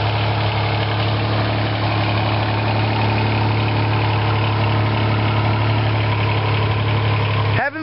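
A tractor engine idles steadily at a country fair, a constant low rumble with mechanical vibration running throughout, while voices talk nearby.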